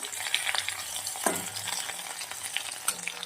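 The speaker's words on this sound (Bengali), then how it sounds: "তো এটাকে এখন উল্টে পাল্টে ভাজা করতে হবে" Oil sizzles steadily as large fritters fry in a pan, with occasional pops and a scrape of stirring, no voices.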